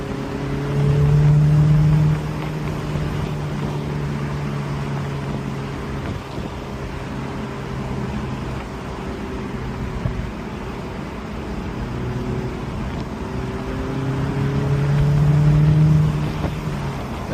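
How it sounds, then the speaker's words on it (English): A car's exhaust burbles and pops on lift-off while driving Bull Road in York County, Pennsylvania, a low rumbling engine drone with steady road and wind noise, swelling louder at the start and again near the end. "Got little burbles when you let off the gas."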